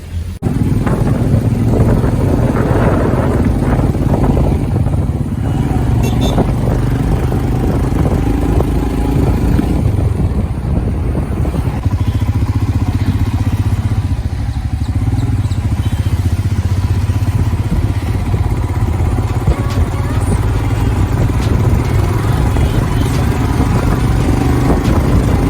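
Motorcycle riding through Solang Valley near Manali in winter, its engine droning steadily and loud throughout with heavy wind buffeting the microphone and occasional clatter.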